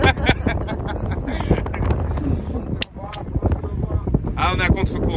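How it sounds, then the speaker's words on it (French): Strong wind buffets a boat heading against the current off the coast of Senegal, roaring steadily under loud conversation. "il y a le vent qui s'est levé"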